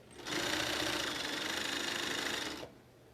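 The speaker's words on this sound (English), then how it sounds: "I'm just sewing it, my bias to the mask, right side bias to the wrong side of the mask." A sewing machine stitches bias tape onto a fabric mask in one continuous run of about two and a half seconds, a close, even whirring buzz that starts and stops cleanly.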